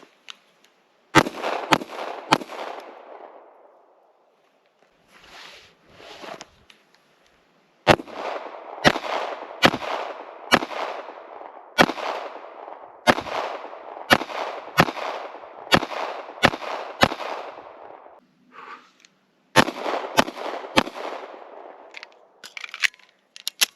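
A Ruger LCP MAX pistol fires repeated loud, sharp gunshots, each with a ringing decay. The shots come in irregular volleys separated by a few quiet pauses.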